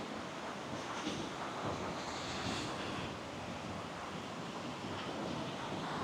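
Surf on Kamala Beach in Phuket, Thailand, rolls and washes ashore in a continuous, moderately loud hiss. Wind buffets the microphone throughout, and no voices are heard.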